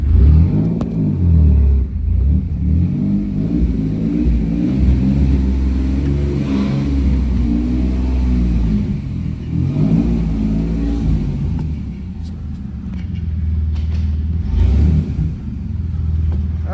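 A 2000 Chevy Camaro's engine rumbles and revs as the car accelerates on a test drive, pitch rising and falling through several surges, loud and close with steady road noise.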